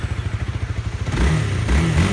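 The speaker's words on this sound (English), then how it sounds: "Let you hear that 300 single cylinder." A 2017 Honda Rebel 300 single-cylinder motorcycle engine starts with a short cranking pulse, then catches and settles into a loud, steady, thumping idle heard up close.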